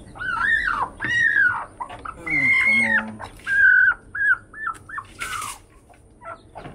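Mother hen and her chicks being rescued from a height: a run of high, bright peeps and clucks in short bursts, fairly close, with a dog-like whimper and faint background noise.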